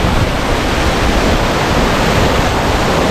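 Punnayar waterfall with water splashing toward the camera. A loud, dense, unbroken roar of rushing and spraying water, very close, with no voices.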